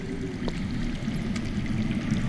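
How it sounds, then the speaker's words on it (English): Water running somewhere underground, heard as a steady rushing flow with faint splashes, continuous and muffled throughout. "I hear water. From underground."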